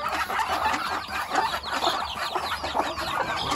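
A hen clucks repeatedly near a flock of ducks in a backyard poultry pen, the steady bursts of clucking close and continuous over a busy farmyard background.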